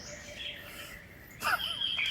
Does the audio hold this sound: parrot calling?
yes